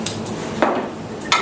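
A utensil stirs water in a pot, producing three sharp clinks and scrapes spaced about half a second apart against a quiet background.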